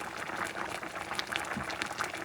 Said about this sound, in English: So you let it boil for a few minutes, no more than 2 minutes